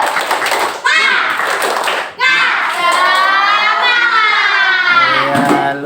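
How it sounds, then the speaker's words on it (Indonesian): Schoolchildren in a fourth-grade class perform a rhythmic spirit clap, close and loud, with bursts of claps mixed into a group chant of young voices. "Tepuk semangat."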